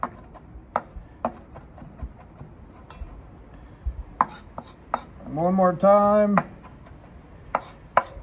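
A knife chops parsley by hand for chimichurri, with sharp irregular taps on a board spaced about half a second apart, then a brief pause where a voice speaks, then more taps.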